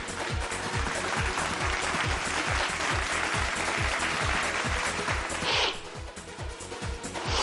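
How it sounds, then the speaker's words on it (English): Sustained audience applause at an award ceremony, a dense crowd of clapping hands with a steady rhythmic beat running throughout, loud and continuous before easing slightly near the end. "With a big applause, please welcome on stage Mr. Ashutosh Chandwar, Vice President of IL&FS."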